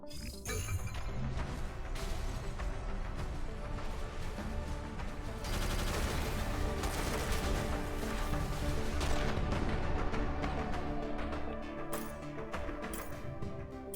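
Weapons fire in the mech strategy game Phantom Brigade: dense, continuous bursts of gunfire and crashing impacts layered over game sound, loud and sustained with sharp transient blasts near the end.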